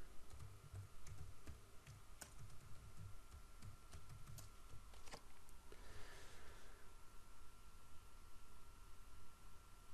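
Keys clatter on a computer keyboard in quick bursts of close, crisp clicks as a web address is typed, with a steady low hum underneath and no talking.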